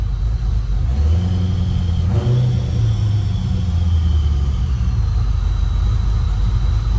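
A Chevrolet LT1 V8 in a C3 Corvette, running well after new spark plugs, idles with a deep, steady rumble close by, with one brief rise in revs early on.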